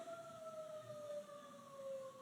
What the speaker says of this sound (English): I know that loud ass ambulance is an ambulance